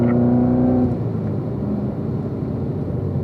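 A race car accelerates on a track, its engine a steady close roar with a sustained droning tone that eases slightly partway through, heard alone without voices.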